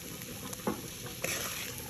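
Boiled egg yolks being stirred into frying masala for egg sukka, with a steady sizzle and a few scraping spoon strokes, close and clear.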